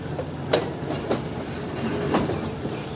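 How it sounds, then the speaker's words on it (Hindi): A train pulls out of Badomali railway station after a two-minute halt, a moderate rolling rumble with a few distinct wheel clacks spaced about half a second apart, heard from on board. "ट्रेन ने निकलना शुरू कर दिया है"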